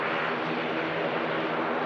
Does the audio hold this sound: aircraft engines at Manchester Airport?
yes